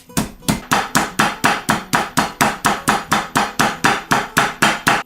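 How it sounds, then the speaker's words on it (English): Mallet pounding chicken thighs flat for a chicken parmesan sandwich, a loud close series of evenly spaced sharp thwacks, roughly three to four per second, with no talking. "Pounding out the chicken"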